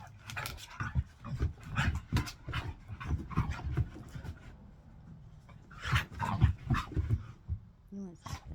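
A dog pants rapidly in a home setting, bursts of quick breathy huffs that come and go in rhythmic clusters, close to the microphone, with brief pauses between them.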